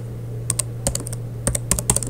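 Rapid clicking keystrokes on a computer keyboard while filling in account sign-up fields, close and crisp over a steady low electrical hum, with no voices.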